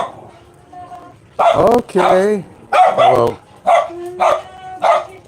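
Several young poodles belonging to neighbours bark and yip in short, loud bursts, with pauses of quiet between them; a person speaks briefly in the same space.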